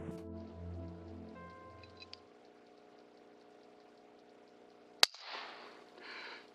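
An air rifle fires a single sharp crack at a red squirrel in quiet outdoor surroundings, followed by brief rustling afterward.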